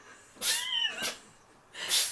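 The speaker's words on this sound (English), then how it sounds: "That's our cat." A cat lets out a short, breathy vocalization, followed by a hissy puff of air. Up close, with a brief pause between the sounds.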